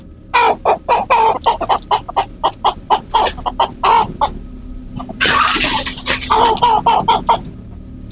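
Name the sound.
chickens clucking noisily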